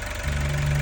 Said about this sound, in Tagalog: Tapos eto, check ulit ang makina, in-start niya na ulit.